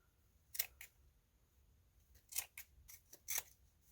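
Scissors snip through the bottom piece of a DIY decor project, a few short crisp cuts in two clusters, close and fairly faint against a quiet room.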